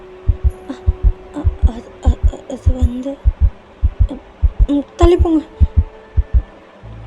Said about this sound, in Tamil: என்னடா உங்கள் ஹார்ட் பீட் இப்படி கேட்குது?